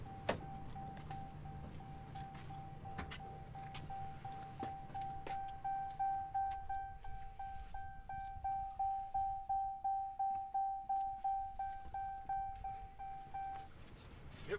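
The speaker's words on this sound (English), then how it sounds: "Sorry for the beeping." Inside a 2021 Ram TRX pickup truck, a steady electronic chime beeps in a fast regular pulse for many seconds, then stops, while people talk quietly in the cab.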